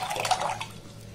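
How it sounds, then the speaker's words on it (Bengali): Water splashes briefly into a bowl in a short, soft gush that fades within about a second. "এবার একটা পাত্র নিয়ে নিয়েছি, এর মধ্যে আমি কিছুটা পরিমাণে জল দিয়ে দেব।"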